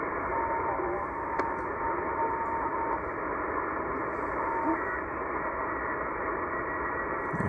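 Shortwave radio tuned in AM around 11.068 MHz hisses with steady band-limited static, a faint continuous carrier tone running through it, while murky hints of distant voice drift under the noise.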